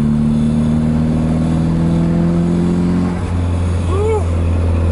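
2JZ-engined Nissan S13 coupe driving, a steady engine drone heard from inside the car that drops in pitch near the end, with a voice talking over it.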